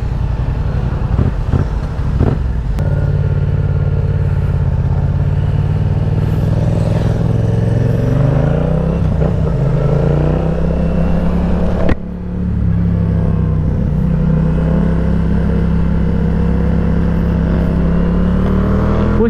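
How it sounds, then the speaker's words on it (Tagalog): Yamaha MT-07 motorcycle engine running loud and close, a steady continuous drone with shifting pitch as it revs and pulls, one brief dip near the middle, no voices. "Grabe yung torque ng MT-07, no?"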